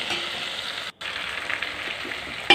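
Drumstick pieces sizzling in hot oil with mustard seeds, onion, green chilli, curry leaves and turmeric, a steady close hiss that breaks off for an instant partway through.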